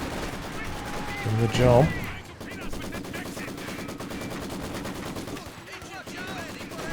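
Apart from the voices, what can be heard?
support gun shells and rifle fire in the video game Company of Heroes 2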